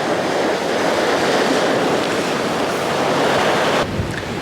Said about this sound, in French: il y a eu beaucoup de vent, comme vous pouvez le voir